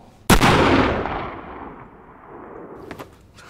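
A single loud gunshot rings out in a tense drama standoff, a sharp close crack followed by a long rolling echo that fades over a few seconds, with a faint second snap near the end.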